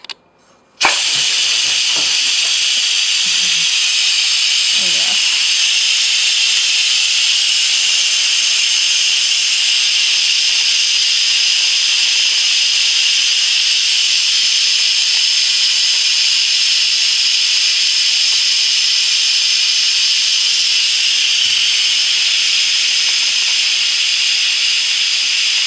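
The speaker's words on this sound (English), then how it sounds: "You can see your steam coming out." Steady, loud hiss of steam venting from an Instant Pot pressure cooker, starting abruptly after a brief knock and continuing unbroken at full strength.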